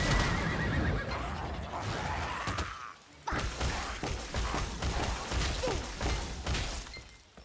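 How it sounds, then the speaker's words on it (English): A horse whinnies loudly from a summoned horse attack in the video game Lost Ark, mixed with hoofbeat thuds, crashing impacts and clattering battle effects, briefly dropping out before the combat noise resumes. "I love this horse attack."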